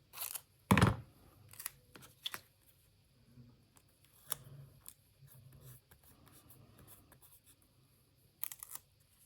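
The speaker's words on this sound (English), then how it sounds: "And I'm going to cut it in 2." Scissors cut a piece of paper ephemera in two, heard as a sharp crisp snip followed by scattered faint snips and paper rustles, close by and quiet, with no talking.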